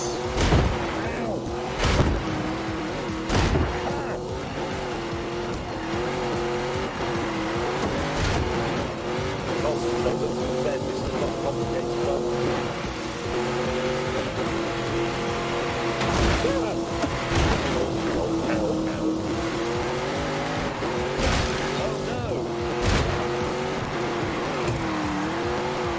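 Race car engine at full throttle in The Grand Tour Game on PS4, loud sustained engine whine with gear-change dips, sharp transients and tire squeal, with a voice talking over it.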